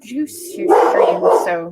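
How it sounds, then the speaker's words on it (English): A boisterous pet dog lets out a few loud barks close by, mixed in with people talking. "He'll bark loud and run the other direction"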